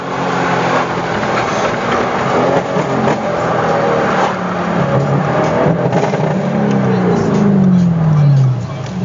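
Tuned Audi RS6 with a 4-litre twin turbo V8 at stage 2, a loud engine roar building and shifting pitch throughout, ending in a falling revving sweep, with talking mixed in.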